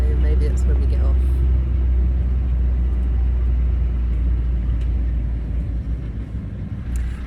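A bus engine in Laos rumbles with a steady, loud low drone throughout the ride, and background chatter is faintly present beneath it.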